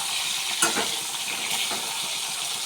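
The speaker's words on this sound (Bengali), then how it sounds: "মাছটা ভেজে নিচ্ছি আগে," Pieces of boal (wallago catfish) frying in hot oil, a steady loud hiss and sizzle throughout with a few brief stirring clinks and pops, close up, no talking.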